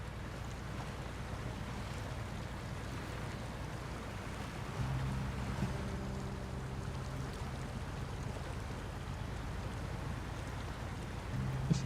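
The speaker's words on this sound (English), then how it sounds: "Listen to those engines roar." Heavy off-road truck engines rumble in SnowRunner on a Tennessee map in Brutal Mode, a deep, steady drone that swells louder around midway and carries on with no talk over it.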